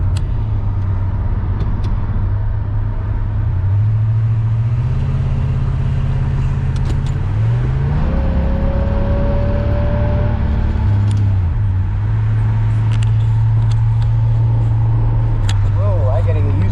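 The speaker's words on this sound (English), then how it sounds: "Let's try a downshift now." A Pontiac Grand Prix fitted with a new B&M shifter, its engine droning and rising and falling in pitch through manual downshifts, steady and close inside the car, with a voice speaking intermittently over it.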